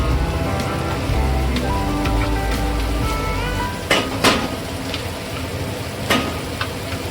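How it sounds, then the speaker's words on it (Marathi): Coconut masala paste made with fresh grated coconut sautés in oil for a spicy Agri-style shingala fish curry, giving a steady close sizzle and frying crackle with a few sharp stirring scrapes, no talk. "छान आपण परतून घेऊया, खमंग वास सुटलाय, आपण अजून 1-2 मिनिटं परतून घेऊया तेल सुटेपर्यंत"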